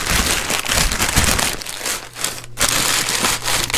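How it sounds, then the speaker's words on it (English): Continuous crinkly rustling of brown paper being crumpled and stuffed down into a box, close and fairly loud, with a brief pause partway through. "I'm going to shove some extra brown paper down in there to keep it from wiggling."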